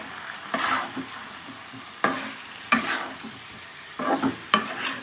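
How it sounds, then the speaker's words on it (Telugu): Chicken liver frying in a pan for a dhaba-style fry, stirred in several separate scraping bursts over a steady low sizzle, close by and with no talking. "ఇలా వేసేసుకొని బాగా కలిపేసుకోవాలండి"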